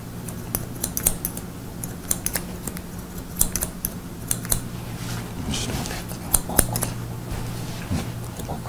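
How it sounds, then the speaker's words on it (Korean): Scissors snip steadily through long hair during a mohican haircut in a hair salon, a run of quick, crisp cuts close up over a faint fan hum. "머리도 길고 그러니까 가위로 먼저 이렇게 잘라보는 거예요"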